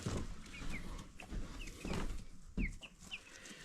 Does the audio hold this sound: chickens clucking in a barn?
yes